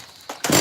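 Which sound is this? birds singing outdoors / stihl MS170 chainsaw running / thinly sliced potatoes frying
stihl MS170 chainsaw running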